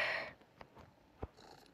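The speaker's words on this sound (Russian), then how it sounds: "А, это кот спящий, да?" A sleeping cat in the video game The Baby in Yellow purrs softly, a faint rumbling breath followed by a few quiet low pulses, heard alone.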